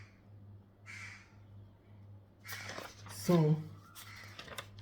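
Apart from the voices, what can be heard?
crows cawing outside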